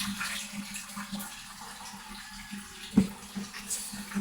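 Water pours and splashes steadily close by into an egg incubator, a soft continuous trickle with one brief louder splash partway through.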